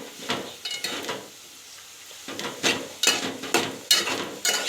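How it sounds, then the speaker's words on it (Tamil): Ridge gourd is stirred in a pan as it cooks, giving repeated scraping spoon strokes and soft sizzling in irregular bursts, close and moderately loud. "பீர்க்கங்காய் நல்லா கலரிட்டே இருக்கணும், அடி பிடிக்காமல்"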